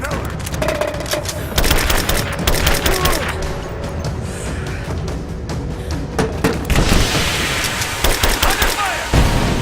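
Rapid bursts of gunfire crackle through a firefight in the video game Rise of the Tomb Raider, abandoned mines level, with dense overlapping shots and booms, loud and continuous, under shouting voices.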